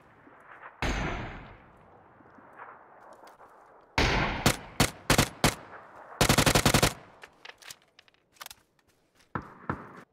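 Automatic weapon fire in the battle royale shooter PUBG, loud sharp bursts and rapid rattling volleys, with scattered single shots and footstep-like thumps between, sounding close with quieter stretches in between.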